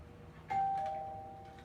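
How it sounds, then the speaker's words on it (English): A regular doorbell rings once indoors during dog counterconditioning training: a clear, bright chime that rings out and fades over about half a second, with no talking. "And now I'm going to go for the regular doorbell ring."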